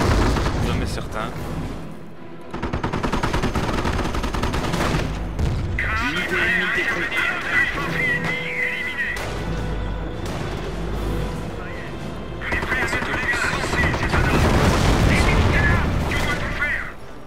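Dense, rapid gunfire cracks with heavy booms rattle through a World War II battle in Company of Heroes on the Montebourg map, continuous and loud with someone talking over the combat.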